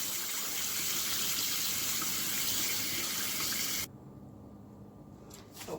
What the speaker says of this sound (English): I have finished washing my turkey wings